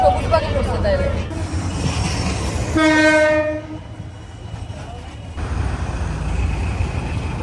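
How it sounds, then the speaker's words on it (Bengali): A local train passes close by on a Dhaka railway line with a loud rumble and a long horn blast, with crowd noise and voices underneath. "local train"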